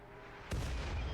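A single sharp mortar launch from a RimWorld colony's defenses bursts in alone, a loud thump followed by a rumbling tail.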